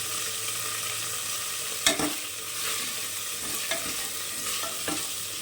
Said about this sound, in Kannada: ಸೊ ಫ್ರೈ ಮಾಡ್ತಾ ಇದ್ದೀನಿ ಎಣ್ಣೆಗೆ.